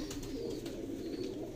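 A large grey-beaked Sialkoti pigeon coos softly at close range, a low rolling murmur held steadily through the brief moment with no talking.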